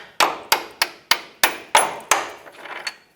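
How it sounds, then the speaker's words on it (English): Sharp metallic hammer blows drive a control arm bolt out of a 2009-2014 Ford F-150, about eight evenly spaced strikes, close and loud, each ringing briefly before the next. "Take a hammer, hammer the bolt out."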